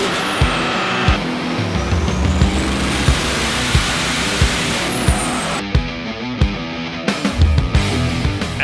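Diesel race truck on a chassis dyno at a truck-pulling callout challenge, a loud continuous roar with rhythmic thumps and bursts, revving and cutting briefly near the end, no talk.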